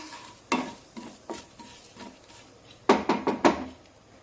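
Spices sauté in hot oil in a pan for besan gatte curry, a soft low sizzle broken by sharp spoon scrapes and knocks against the pan, sparse at first, then a quick cluster of strokes.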